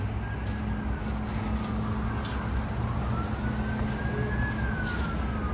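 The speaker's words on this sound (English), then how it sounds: "And now I'm hearing more sirens." An ambulance siren wails faintly in the distance in North York, Toronto, its pitch rising and falling slowly over steady traffic rumble and broadband city noise.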